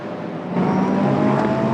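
GT race cars in a pack at the Estoril circuit, engines roaring and building in intensity as the train of cars arrives into a corner.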